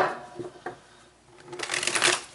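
Tarot cards being shuffled by hand in a bursty, papery riffle, with quieter shuffles early and a louder, denser stretch toward the end, heard close and alone.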